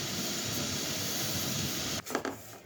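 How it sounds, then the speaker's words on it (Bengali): Sesame seeds dry-roasting over a low flame in a pan give a steady, close hiss and crackle for about two seconds, then a few scraping stirs near the end. "তিলটা ভাজতে বেশ সময় লাগে, এটা একদম লো ফ্লেমে আস্তে আস্তে ভাজতে হয়"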